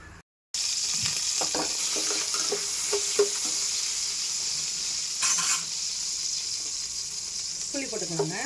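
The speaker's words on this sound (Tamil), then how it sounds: "காஞ்ச மிளகாய் போட்டுக்கோங்க." Dried red chilies fry in a little oil in a kadai, a steady hiss of sizzling running throughout with occasional stirring clinks, close and fairly loud, no talk.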